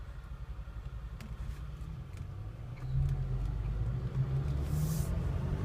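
Steady road and wind rumble inside a 2015–2016 Mercedes-Benz C-Class sedan driving a quiet road with the sunroof open, a low constant roar that swells noticeably louder partway through, with a few faint ticks on top.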